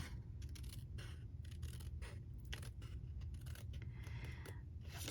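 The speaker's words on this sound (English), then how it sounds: "I'm going to just take my scissors and I'm going to cut out" Scissors snip paper ephemera pieces up close in steady, continuous cutting and rustling, with a low background hum underneath and no voices.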